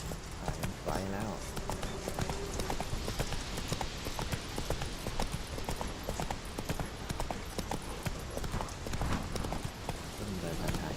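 Roach, the horse in The Witcher 3, gallops with loud, continuous clip-clop hoofbeats, busy and close, under a voice speaking throughout.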